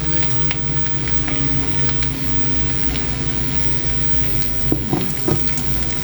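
Pork and shrimp paste (bagoong alamang) sizzling in a stir fry pan without added oil, a steady close crackle and hiss with occasional utensil clinks as it is stirred.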